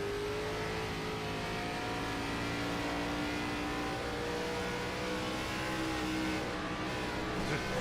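A stock race car in a racing video game at Homestead-Miami Speedway holds a steady engine drone, then the driver lifts off the throttle, with a slight fall in pitch near the end.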